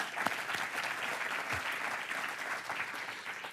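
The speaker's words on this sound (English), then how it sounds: "Let's give him another round of applause." Audience applause at a closing keynote of a health innovations conference, steady dense clapping from a sizable crowd throughout, moderately distant and unbroken.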